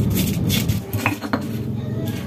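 Shallots and spices are ground by hand in a stone mortar for nasi goreng tiwul, giving close, repeated scraping and knocking strokes at an uneven rhythm, with no talking.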